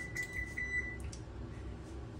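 A kitchen timer set for five minutes while cooking rice gives a few quick, faint, high beeps in a row, then falls quiet against a low background hum.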